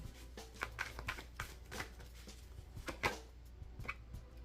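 A deck of playing cards being riffled and shuffled up close, with a rapid flutter of snapping cards repeating in short bursts.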